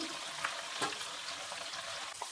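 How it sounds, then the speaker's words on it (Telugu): Cashews and green chillies frying in hot oil in a pan for pulihora make a steady, close sizzle with faint crackles, with no voices. "ఫ్రై అయిపోయింది చూడండి"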